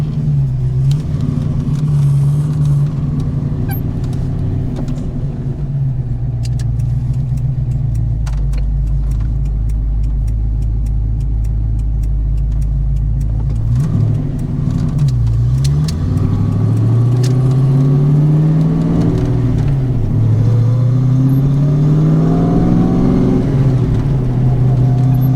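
A car fitted with 3.73 rear gears accelerates, its engine a loud, close, sustained drone that holds steady, then rises in pitch through repeated upward sweeps as it gathers speed, with rattles inside the cabin.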